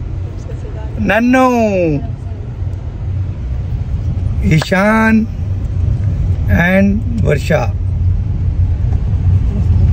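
Steady low engine rumble fills the cabin of a family car driving from Delhi to Khatima, Uttarakhand, for a wedding, continuous throughout while several people talk over it in short bursts.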